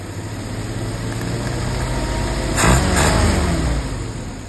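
Engine of a 1948 Willys pickup running loud and close, a steady rumble that swells in a throttle blip near the middle and then settles back toward idle.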